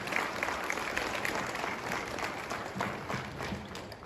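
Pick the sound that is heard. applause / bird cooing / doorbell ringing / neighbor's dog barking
applause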